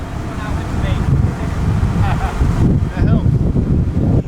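Wind gusting across a boat out at sea, a steady rough roar buffeting the microphone throughout, with faint indistinct sounds beneath it.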